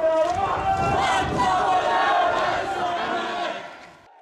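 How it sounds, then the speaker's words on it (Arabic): Protesters at a demonstration in Bahrain chant slogans in unison, their massed voices loud and rhythmic. The chanting rises and falls in strong repeated phrases, then fades toward the end. "المتظاهرون رددوا شعارات طالبت بإسقاط النظام والقصاص من قتلة الشهداء"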